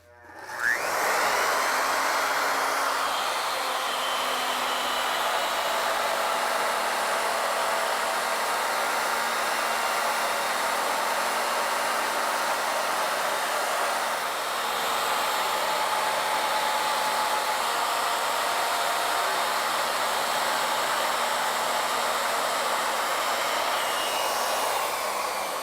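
A machine cutter runs a long pass along a wooden spindle, a steady, loud whirring drone that starts abruptly and holds evenly throughout, with no voices.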